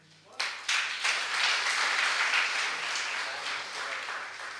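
An audience at a Digambar Jain religious discourse bursts into applause, sparse at first, then swelling into dense, sustained clapping that slowly tapers while still going.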